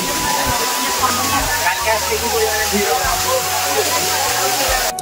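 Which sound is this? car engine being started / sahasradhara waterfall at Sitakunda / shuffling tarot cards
sahasradhara waterfall at Sitakunda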